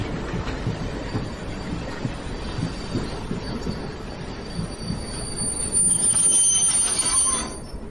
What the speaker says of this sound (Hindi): तुम्हें यहीं पर ट्रेन रोकनी पड़ेगी।